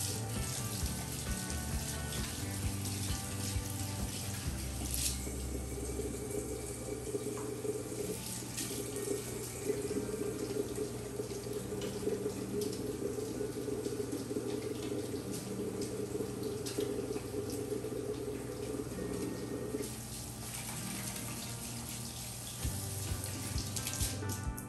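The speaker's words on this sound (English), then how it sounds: "I'm washing my hands." A kitchen tap runs steadily while hands are washed under it, a continuous splashing water stream lasting the whole stretch at close range with no talking.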